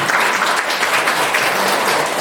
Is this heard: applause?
yes